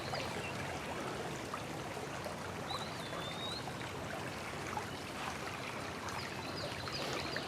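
A small stream in a wooded suburban watershed trickles and burbles steadily, a soft continuous wash of flowing water heard nearby with no talking.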